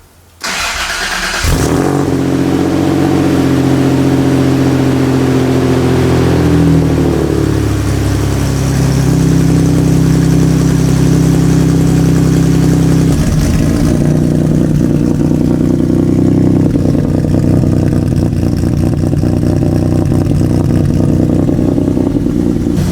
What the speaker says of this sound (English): So let's fire this thing up. See how she sounds with a new exhaust.